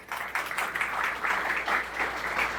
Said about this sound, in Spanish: Un aplauso para los voluntarios